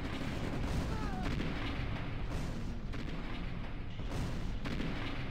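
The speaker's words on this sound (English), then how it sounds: "Middle is getting bombarded by artillery." Video game artillery bombardment forms a loud, continuous barrage of overlapping booms and blasts, with dense impacts rolling on without pause throughout.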